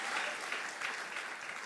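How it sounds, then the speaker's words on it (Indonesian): A church congregation at a GBI worship service in Batam applauds for Jesus, a steady wash of clapping heard at moderate distance and fairly quiet. "Ya, beri tepuk tangan lagi buat Tuhan Yesus."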